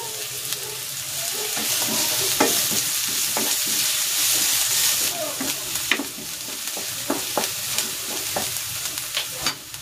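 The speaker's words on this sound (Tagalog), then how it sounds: "Igigisa ko na tong bawang. At ang sibuyas." Garlic and onion sautéing in cooking oil in a pan, a loud steady sizzle broken by repeated sharp scrapes and knocks of the spatula stirring, close up throughout.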